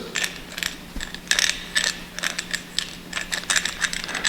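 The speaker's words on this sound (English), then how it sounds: "oh, you want to see a bad U-joint, listen to this" A worn-out U-joint on a front axle shaft clunks and ratchets as the shaft is moved by hand, giving a run of irregular metallic clicks and knocks close by, with no talking.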